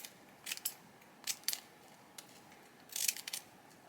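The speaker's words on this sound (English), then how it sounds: "So I'm just going to go all the way around with a few slits with my scissors." Scissors snipping a few slits around the edge of a paper circle, several short crisp cuts in irregular bursts, close and fairly quiet with no talk.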